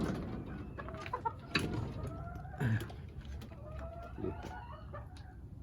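Backyard hens cluck and murmur close by in a series of short, irregular calls, with a brief spoken word in a quiet outdoor setting.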